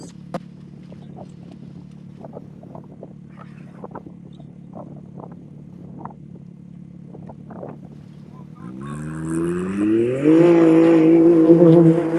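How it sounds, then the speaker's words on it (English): Can-Am X3 rally car at a desert race start: a quiet idle with scattered clicks, then the engine revs and accelerates loudly away, pitch climbing through the gears near the end. "It's going to be the 402, another Can-Am X3."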